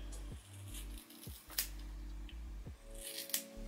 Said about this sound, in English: So we're going to go ahead and cut it.